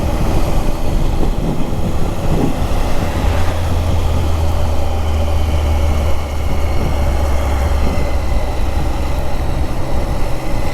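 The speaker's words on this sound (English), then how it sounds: "I do like this 3-cylinder motor." A Triumph Sprint RS 955i three-cylinder motorcycle drones steadily under way, a loud sustained engine hum mixed with rushing wind noise, held at an even level throughout without any speech.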